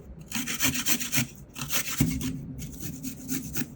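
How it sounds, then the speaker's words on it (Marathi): Green garlic is rubbed on a grater in quick rhythmic strokes, each a close, dry rasp, coming in short bursts with tiny pauses between them and no voices. "एक लसूण पाती किसून"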